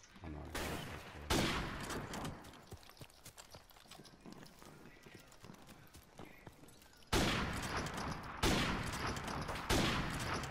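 Gunfire in the video game Call of Duty: Modern Warfare Remastered during a 1v1 match: loud, dense bursts of automatic fire come in separate volleys, with quieter game sounds between them.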